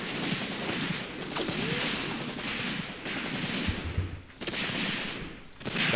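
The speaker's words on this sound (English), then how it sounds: "Firing the PPSH there at the enemy." Rapid bursts of PPSh submachine gun fire from the Graviteam Tactics war game, loud and close, repeating in quick volleys with other battlefield gunfire mixed in, no voices.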